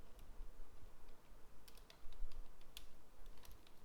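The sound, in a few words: typing a search into Google on a computer keyboard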